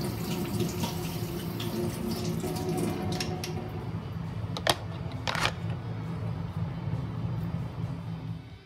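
Tap water runs steadily into a sink while a personal blender is washed, with a couple of sharp clicks and knocks partway through.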